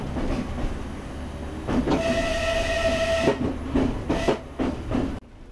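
A train locomotive sounds a sustained steady whistle over the rumble of rail cars, followed by a few shorter whistle blasts, loud and close with no talking.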